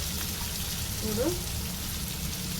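Chopped mint and coriander fry in hot oil in a pan, a steady broad sizzling hiss that runs through the whole stretch with a faint swell midway.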